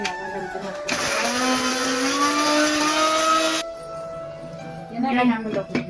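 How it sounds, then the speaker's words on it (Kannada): Mixer grinder grinding dry tamarind chutney ingredients, a loud steady whine for about three seconds that starts and stops abruptly, with a voice speaking before and after. "ಈಗ ಇದು ಒಣದನ್ನೆಲ್ಲ ರುಬ್ತೀನಿ ನೋಡ್ರಿ"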